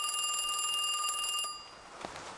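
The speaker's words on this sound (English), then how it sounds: "Okay, we got a cell phone." A cell phone in the video game Kiosk rings with a bright electronic trill for about a second and a half, then cuts off, leaving a faint rustle and a soft click.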